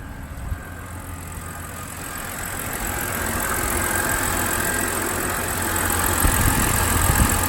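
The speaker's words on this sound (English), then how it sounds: "we finally got the car running" A BMW X5 engine, just repaired, runs at idle with a steady mid-pitched hum that grows slightly louder and fuller over several seconds.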